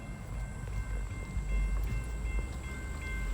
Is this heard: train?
yes